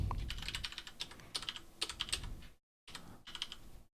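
Rapid typing on a computer keyboard during a coding session, a dense run of close, crisp key clicks in uneven bursts, briefly stopping for a moment of silence before resuming.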